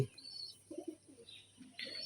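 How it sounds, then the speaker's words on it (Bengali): Soft, low pigeon coos sound in a few short bursts at a farm of Pakistani flying pigeons, mixed with faint higher chirps from other birds nearby. "এখানে অনেক জাতের কবুতর আছে আমার কাছে।"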